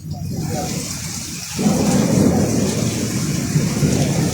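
Heavy rain pours down during an evening storm, a dense steady roar that swells louder partway through and stays constant, with no pauses.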